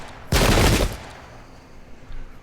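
A single loud musket volley from the Pike and Shot video game, fired at an infantry unit, bursts out as one sharp crackling blast lasting under a second, then trails into faint noise.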